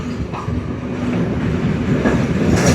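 A night mail express passenger train runs on rails on the line between Jaffna and Batticaloa, with a steady rumbling roll and faint rhythmic wheel clatter heard from inside.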